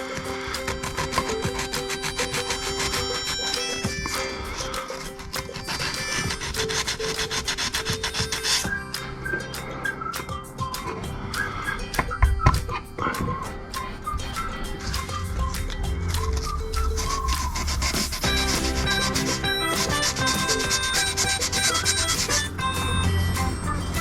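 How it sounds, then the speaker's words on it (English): A small area on a Jeep JK rear window is sanded flat by hand for a defogger repair. The sound is a continuous close rubbing and scratching with uneven strokes, under background music. "That's the area sanded, flattened, and that should give me a good adhesive area once I've cleaned it, ready to stick."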